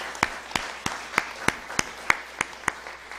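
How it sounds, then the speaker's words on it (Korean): A church congregation claps in a slow, even rhythm, about a dozen distinct claps in a row, moderately close, with a faint room hum beneath. "박수하겠습니다"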